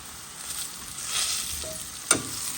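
Food sizzles softly in a pan, with salted pig tails, potatoes, eggs and bitter melon being stirred with a wooden spoon, a faint steady crackle broken by one sharp scrape or knock near the end.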